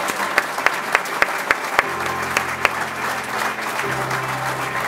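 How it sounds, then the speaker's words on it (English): Audience applause at an awards ceremony as the Team of the Year Award goes to Tadley Fire Station; steady, loud clapping from a large crowd with a few sharp louder claps early, continuing throughout. "Keep the applause going."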